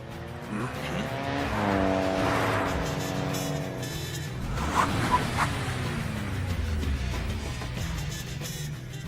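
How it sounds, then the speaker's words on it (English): Racing cars in an animated mountain-pass street race rev their engines hard, with rising and falling engine whines, squealing tyres and passing roars overlapping, loud and continuous. "They're saying both of them got their engines started."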